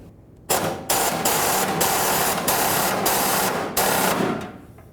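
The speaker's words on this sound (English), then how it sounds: "Now we're just going to torque both straps to 13 foot-pounds." Torque wrench tightening the fuel pump strap bolts to 13 foot-pounds on a 1994-2004 Chevy S-10, heard as loud, continuous mechanical whirring and rasping with several sharp onsets, close up and without speech.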